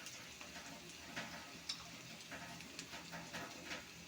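Garlic paste goes into a pan of fried onions while an egg curry with potato and papaya is being cooked. The result is a soft, steady sizzle with faint crackles and small ticks.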